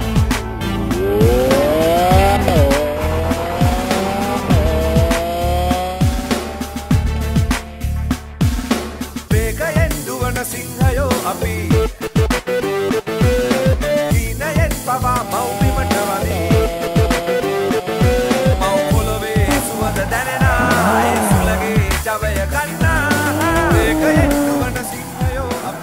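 Lamborghini Super Trofeo race cars at the 2017 World Finals, engines revving and shifting loudly through continuous passes, with tire squeal at moments, under steady race commentary.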